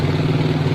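A motorcycle engine hums steadily and loudly at close range as the throttle is opened during a battery-charging check. The burst is very short and shows no clear rise in pitch.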